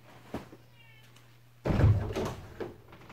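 A cat makes a noisy interruption indoors: a soft thump and a brief faint meow-like call, then a louder burst of bumping and rustling close by with a few trailing knocks.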